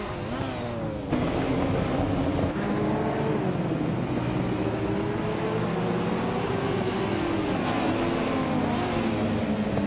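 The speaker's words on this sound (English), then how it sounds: "Maya's driving a 1989 Ford Sierra RS 500, starting from the 13th position." A 1989 Ford Sierra RS 500 race car in a racing video game, its engine droning loud and continuous with rising and falling pitch as it climbs through the gears, alone without talk.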